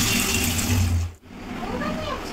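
Soaked lentils for dahi bara are washed by hand in water, a steady close splashing and rushing wash that dips briefly midway, then resumes.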